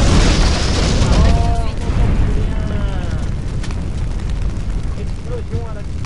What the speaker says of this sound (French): Explosion à la con.